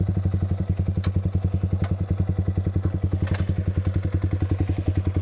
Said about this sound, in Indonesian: kita arahin knalpotnya ke sana, kita geber untuk geber maksimal kita